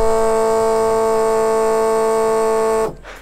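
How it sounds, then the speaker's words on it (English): A Holley Blue style electric fuel pump mounted in the boot of a Holden VH Commodore 355 stroker whines loudly and steadily in a sustained tonal drone, then cuts off abruptly near the end, leaving a short low rumble. "This is how loud the fuel pump"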